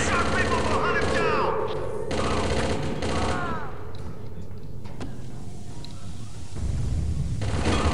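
Enemies in a shooter video game fire rapid volleys of gunshots, a dense crackling stream that runs loud throughout, with a voice speaking over the first few seconds and shots continuing alone afterward.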